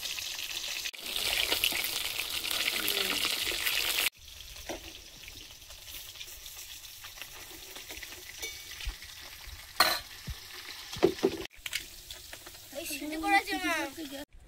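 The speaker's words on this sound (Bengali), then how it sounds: "মাছগুলো ভাজা হয়েছে, তুলে নিচ্ছে।" Small fish fry in hot oil in a pan, a steady loud sizzle and crackle that breaks off and resumes, with stirring and scraping clatter near the end and people talking.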